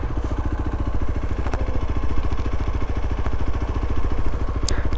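Motorcycles on a mountain road near Manang in the Himalayas, their engines chugging loud and close in a steady rhythm through the whole stretch.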